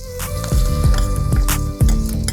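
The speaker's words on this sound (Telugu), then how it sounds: "తాలింపు తీసి పోసేద్దాం." Hot tempering of cashews, asafoetida and green chillies poured over tamarind rice bursts into a loud, close sizzle with a couple of sharp crackling pops and faint utensil clinks, no talking.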